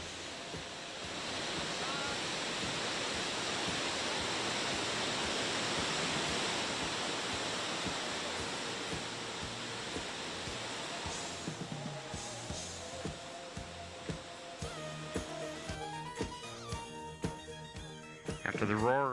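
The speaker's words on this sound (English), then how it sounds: "After the roar of Dettifoss, a sound that could be heard from a mile to 2 miles away" Dettifoss waterfall in Iceland, about 150 feet tall and carrying an enormous volume of water, gives a continuous broad roar that fades somewhat toward the end, where faint other sounds break in.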